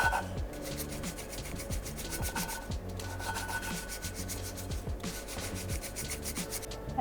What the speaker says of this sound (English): And then you just grind them by hand.